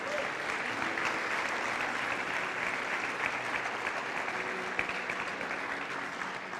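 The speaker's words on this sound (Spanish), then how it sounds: "Dale un aplauso a la palabra de Dios." Church congregation gives sustained applause to the word of God during a sermon, an even wash of many hands clapping that holds steady with no voices over it.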